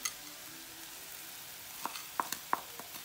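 Vegetables frying in a pan with green peas, heard as a quiet sizzle with a few sharp stirring clinks and scrapes near the end, no talk.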